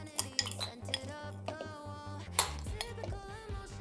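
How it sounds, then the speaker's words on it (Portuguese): Utensil stirring gizzard stew with baby carrots in a pressure cooker, giving light clinks and scrapes against the metal pot in a steady stirring rhythm, close and fairly quiet. "Vou dar uma mexidinha aqui."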